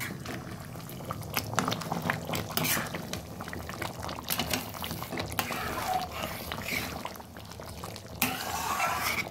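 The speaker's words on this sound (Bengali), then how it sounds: "জল দিয়ে দিচ্ছি। জলটা গরম জল দিলাম।" Hot water poured into a pot of mutton curry (mutton kasa), giving a steady bubbling, gurgling wash of liquid. Close and fairly loud, with brief louder bursts, and no talk over it.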